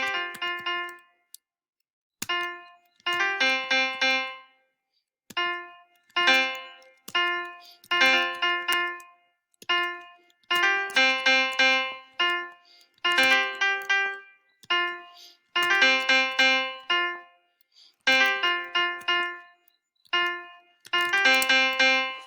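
A simple rock melody built from the first, fourth and fifth notes of a scale plays on a bright synthesized keyboard made in Soundtrap. Short chord-like notes and note clusters come in a choppy rhythm, clean and alone.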